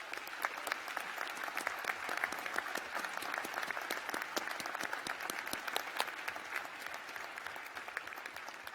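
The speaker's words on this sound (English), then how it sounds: "So please join me in a round of applause for those." Audience at a university graduation ceremony for the School of Arts and Media gives a sustained round of applause, dense steady clapping from a large crowd filling the hall without a break.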